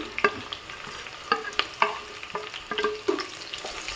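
Onions and green chillies sizzling in hot oil for vegetable pulao, with repeated sharp stirring scrapes and clicks from a spoon in the pan over a steady frying hiss, close and alone.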